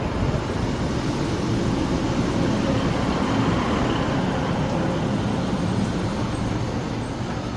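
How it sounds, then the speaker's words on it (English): The 11:31 Northern service from Clitheroe to Rochdale pulls into Salford Crescent station, a steady loud rumble of wheels and engine filling the platform without pause. "Arriving now is the 11:31 Northern service from Clitheroe to Rochdale"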